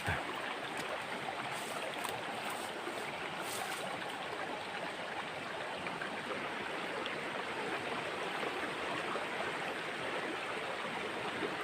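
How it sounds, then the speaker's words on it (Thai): The Mae Ngat river flows through a natural gorge setting, a steady broadband rush of water that stays constant and fairly faint throughout, with no voices. "จะมีแม่น้ำแม่งัดครับผมไหลผ่านครับผม"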